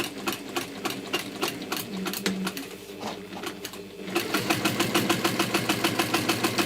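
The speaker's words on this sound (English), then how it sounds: "And I'm just going to sew" A sewing machine fitted with a walking foot stitches a pleather scrap, its rapid mechanical chatter running steadily and close, speeding up and growing louder in the final seconds, with no talking.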